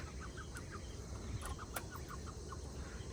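A white hen clucks in short repeated bursts, somewhat distant, over a steady low background hum with no voices.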